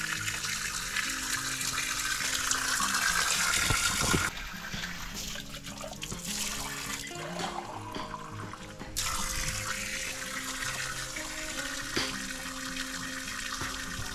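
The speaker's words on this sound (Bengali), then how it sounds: "এই যে ছোট্ট একটা ঝর্ণা সবসময় জল আসছেই" A small spring at a hillside ashram on Biharinath hill pours water steadily, a continuous close splashing trickle that shifts slightly in tone but never stops.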